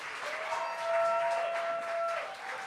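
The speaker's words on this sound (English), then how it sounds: "Folks, give a round of applause for your candidates for Seattle City Attorney." An audience at a Seattle candidate forum applauds the candidates for city attorney, a brief swell of clapping from a crowd that rises and then eases off, with a sustained tone ringing faintly underneath.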